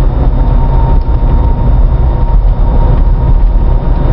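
A 2001 Land Rover Range Rover on new tires cruises at around 45 mph, its engine and road noise forming a loud, steady, unbroken drone with no distinct gear-change clunks.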